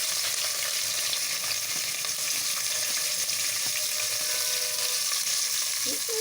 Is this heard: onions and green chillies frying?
yes